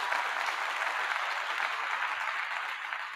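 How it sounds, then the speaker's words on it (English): Dense, steady applause from an audience fills the whole stretch at an even level, a continuous wash of many hands clapping with no voices standing out. "I'm going to give you a clap again"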